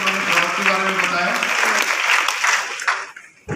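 An audience at a Vestige meeting applauds for Anunay, a dense steady clapping from many hands that fades out toward the end, with voices mixed in.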